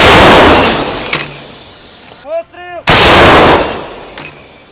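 Two powerful howitzer blasts roar out, each followed by a long rumbling decay, with a brief shouted Ukrainian firing command between them.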